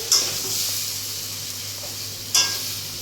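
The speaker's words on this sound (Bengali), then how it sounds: "যতক্ষণ না তরকারিটা থেকে মানে তেল ছাড়ছে ততক্ষণ কিন্তু এটাকে কষতে হবে" Bori and potato curry sautés in oil in a pan, a steady close sizzle with two sharp stirring scrapes, one at the start and another near the end.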